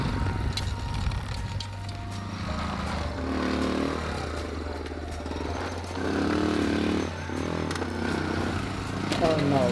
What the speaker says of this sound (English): we are going to take this bike here on one of the dangerous or bumpy area